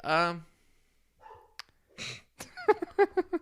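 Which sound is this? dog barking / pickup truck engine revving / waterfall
dog barking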